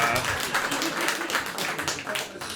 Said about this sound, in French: Attends, ils applaudissent, ils sont contents.